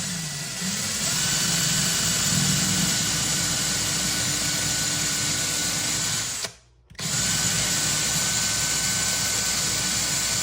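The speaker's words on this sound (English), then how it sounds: "Now we're using 3/16 drill bit to drill the hole." A power drill with a 3/16-inch bit drills a hole for mounting a home electric vehicle charger. It gives a loud, steady whir that runs continuously, stops briefly, then resumes just as strongly.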